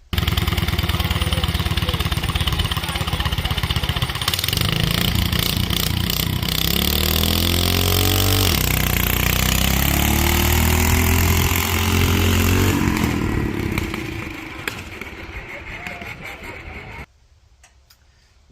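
Sears dragster engine on a test launch at Unity Raceway, a loud sustained roar that climbs in pitch through the run, then fades away into the distance before cutting off.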